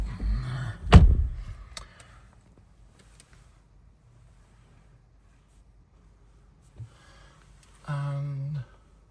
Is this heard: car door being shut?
yes